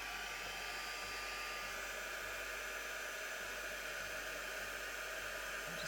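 A heat tool blows steadily over gold embossing powder on a Christmas bauble design, a constant airy whoosh held close and unbroken, with no talk.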